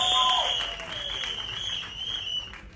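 An audience applauds for a singer at a film trailer launch event, with steady clapping over a sustained high-pitched tone and some background voices.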